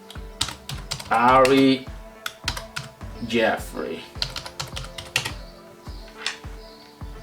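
Fingers type on a computer keyboard with uneven bursts of clicks and key taps. Someone speaks intermittently over the typing.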